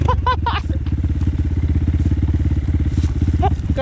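An enduro motorcycle engine idles close by with a rapid, throbbing putter, loud and steady, with brief voices shouting over it near the start and end.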